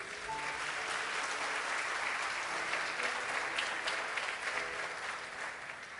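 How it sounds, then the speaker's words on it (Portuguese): A church congregation applauds steadily throughout, a dense, even wash of clapping from many hands filling a large room with no voices on top. "Aplauda o Senhor Jesus."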